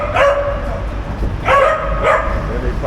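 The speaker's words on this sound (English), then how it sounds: "they gave the dogs to the dog walkers" Dogs out with a dog walker in a Buenos Aires park bark in two or three loud, close bursts of yips and woofs over outdoor background noise.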